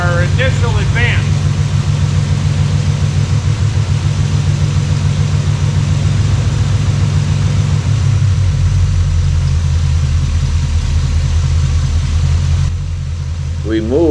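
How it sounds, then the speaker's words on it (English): A car engine idles steadily as the distributor is rotated to advance the ignition timing, a low continuous rumble that smooths out and rises slightly in pitch, with a person talking over it near the end. "As we advance the timing, our idle smooths out and increases."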